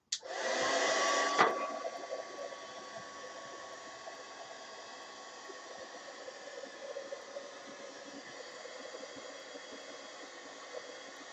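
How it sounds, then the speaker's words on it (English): A heat gun roars on with a loud rush of blowing air, then settles into a steady, even whoosh that continues alone for the rest of the clip. "heat gun."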